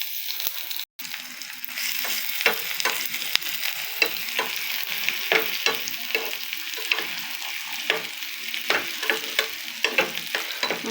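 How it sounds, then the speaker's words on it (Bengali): Onion and a single garlic clove tempering in hot oil for a beef liver bhuna, a continuous sizzle punctuated by repeated scraping clicks of a spoon stirring the pan, close and clear. "দিলাম তেল, আর এখানে আছে পেঁয়াজ আর 1 কোয়া রসুন, এটাকে আমি এখন বাগার দিয়ে দিব।"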